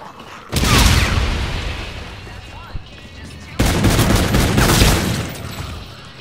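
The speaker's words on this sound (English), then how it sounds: "Cluster grenades" Cluster grenades going off in the video game Call of Duty: two heavy bursts of rumbling, crackling explosions, the first lingering and fading, the second starting abruptly and rolling on loudly to the end.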